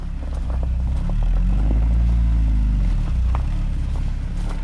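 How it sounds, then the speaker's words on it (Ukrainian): A VAZ 2101 Zhiguli engine idles and is revved, its exhaust giving a loud, close low rumble that swells into a rising rev around the middle before settling back, with faint voices over it. "Дивимося вихлоп. Погазуй! Погазуй, тато!"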